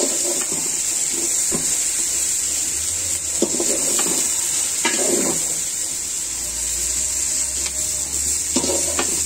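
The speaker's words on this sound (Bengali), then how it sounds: "বেগুনটা ভেজে নিয়েছি" Brinjal fries in a pan with a constant hissing sizzle, broken by a few scraping strokes of a spatula at irregular intervals, close and fairly loud.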